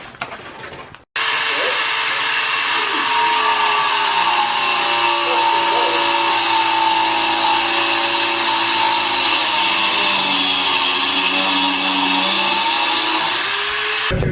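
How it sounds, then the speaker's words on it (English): Grinder steadily cutting metal off a rear brake caliper bracket on a Ram 1500 pickup during a PowerStop brake fitting, a loud continuous whine that starts after a short pause and runs unbroken to the end. "we're gonna start grinding away some of the material"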